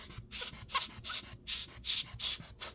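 A small brush sweeps light dust from the internals of an opened Dell Inspiron 15 3511 laptop, making quick, close bristle strokes in a regular series of about eight to ten rubs with brief pauses between them.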